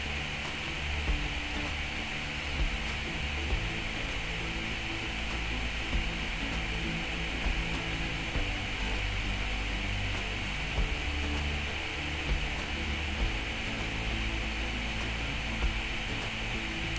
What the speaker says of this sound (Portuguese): vamos colocar na máquina e costurar toda a volta da boca do saco